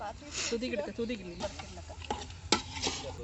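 Biryani in a pot being stirred after home-ground masala goes in, with scraping and sizzling stir sounds and sharp clanks of a utensil while someone talks over it.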